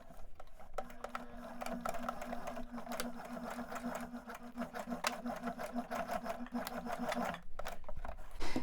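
A sewing machine stitches along a pants waistband, a continuous close mechanical whirring hum with rapid needle ticking that runs steadily for several seconds, then pauses briefly and resumes.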